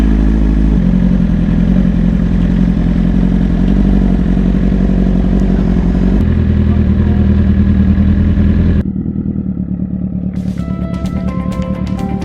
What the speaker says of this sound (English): Pulling the clutch, hit the button. It'll fire right up.